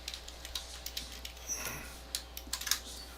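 A password is typed on a computer keyboard as a quick run of light, close key clicks in an uneven rhythm, alone and without talk.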